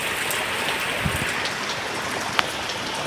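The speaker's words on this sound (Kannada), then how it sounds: "ಗಾಳಿಯೊಟ್ಟಿಗೆ ಮಳೆ ಸಹ." Heavy rain driven by strong wind makes a steady, dense hiss with scattered louder drops and gusts, loud and close with no voices.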